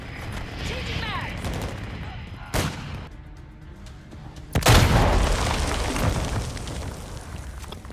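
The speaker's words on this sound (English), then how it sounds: "Cluster mine deployed." Several booming cluster mine explosions in Call of Duty Modern Warfare III, with a sharp blast near the middle and a louder burst of rumbling detonations afterward, set over continuous battle noise and gunfire.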